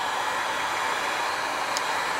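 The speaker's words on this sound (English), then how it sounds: "all you have to do now is heat set it with your heat gun." A heat gun blowing hot air to heat-set paint dye on a custom shoe's sock liner, a steady close whooshing roar with no voices.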